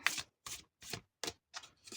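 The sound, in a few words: shuffling tarot cards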